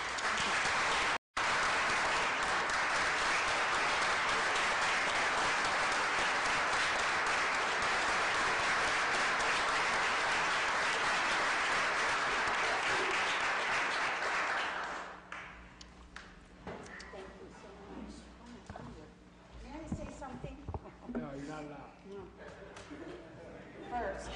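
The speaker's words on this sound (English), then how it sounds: "join me in a round of applause, please" Broad, sustained applause from the audience at a city council meeting fills the room for about fifteen seconds, then fades into scattered clapping, murmuring and small knocks as people settle.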